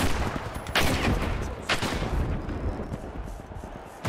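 Rapid gunfire crackles in the shooter video game The Finals, loud bursts of automatic shots with a few sharper blasts standing out over the steady barrage.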